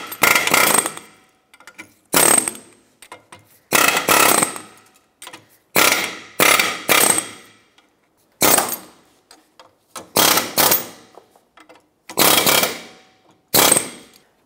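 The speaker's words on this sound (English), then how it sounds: "So take an air chisel and you want to bend this down" An air chisel hammers the lip of a front lower control arm bushing on a 1996-2002 Toyota 4Runner in short, loud rattling bursts, about nine of them separated by brief pauses.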